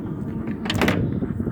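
Doors on a narrowboat pulled shut, giving a brief broadband bang or rattle in the middle of a short clip over a steady low background hum.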